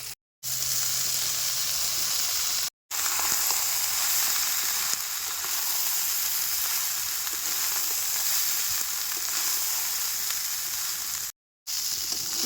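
Stale rice and winter vegetables stir-fry in a pan with a loud, continuous, close sizzle, broken by a few abrupt silent gaps.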